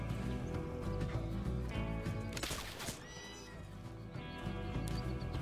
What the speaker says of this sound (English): I'm a little confused why the deer sound like horses